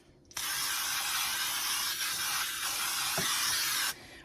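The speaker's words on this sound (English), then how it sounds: "We're going to spray some baking spray in our dish." Baking spray hisses from an aerosol can into a baking dish in one steady spray of about three and a half seconds, close and fairly quiet, with no talking.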